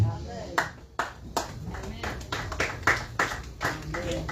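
Church congregation clapping for their pastor during a Swahili sermon, scattered claps building into a loose ragged burst under an ongoing voice, moderately close.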